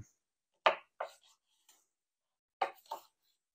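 A knife cuts through a whole lemon with a few short, crisp chopping strokes in two small bursts, close by and quiet, with no voices.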